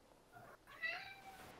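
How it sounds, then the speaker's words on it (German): A cat meows once indoors, a faint, short call rising out of quiet room tone during Guild Wars 2 play. "Die Katze."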